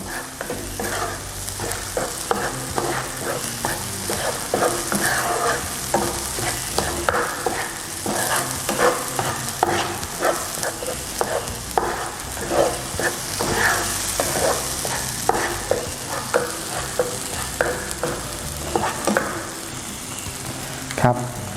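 Coconut cream and curry paste sizzle in a pan for panang pork, with rhythmic scraping of a spatula stirring throughout, close and steady over a constant frying hiss.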